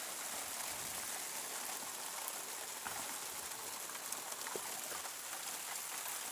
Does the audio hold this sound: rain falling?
yes